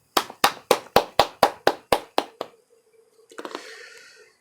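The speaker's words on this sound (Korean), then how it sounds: "하나님께 영광의 박수 올리겠습니다." A church congregation at Sunday worship claps about ten times together in a steady, even beat, then stops, and a short spell of softer, scattered noise follows.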